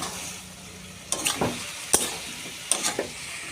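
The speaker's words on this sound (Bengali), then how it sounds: "আবারও সব মশলার সঙ্গে ভালোভাবে মিশিয়ে নিচ্ছি।" Fried potato and elephant foot yam are stirred together with spices in a pan, a few distinct scraping strokes and clacks rising over a low, steady sizzle, nearby and fairly quiet.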